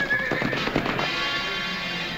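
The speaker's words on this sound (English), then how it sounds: "has he got a bunch of horses?" A bunch of horses neigh and whinny out on a Texas cattle trail, the calls rising over a busy rumble of hooves, fairly loud and close at first and then settling into a steady roar.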